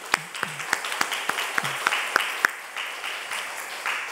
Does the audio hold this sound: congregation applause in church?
yes